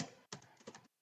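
Computer keyboard keys clicking in a short quick burst as a command is typed, several close, faint taps with brief gaps and no voices.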